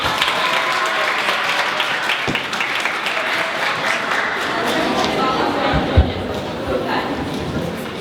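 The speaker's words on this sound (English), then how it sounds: "welcome him with a big round of applause" Sustained audience applause at a debate camp orientation, steady dense clapping from a crowd filling the whole stretch at a strong, even level without speech.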